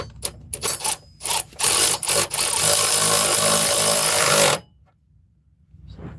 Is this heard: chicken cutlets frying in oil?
no